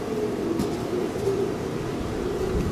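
Pigeon cooing inside a loft during a pigeon competition, soft repeated low coos running steadily through the clip with a faint background hum.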